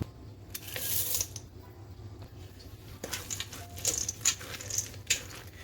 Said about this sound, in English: you can add your chocolate chips, and we're gonna add a cup